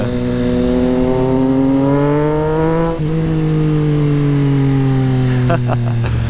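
A close, loud Triumph Street Triple motorcycle with a Racefit Growler straight-pipe exhaust revs up and down with a raw, rasping exhaust note, pitch rising and falling, with a few sharp pops.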